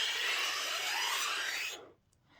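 A homemade pan flute made from bendy drinking straws gives a breathy, airy rush that holds steady, then cuts off sharply, leaving near silence.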